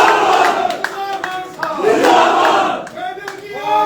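A crowd at BJP headquarters cheers and claps loudly as a former MLC from Mendhar joins the party, with shouted slogans and excited voices rising and falling over a brief patter of hands.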